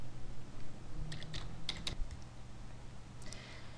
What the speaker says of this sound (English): Type your valid email address into the Mail From field.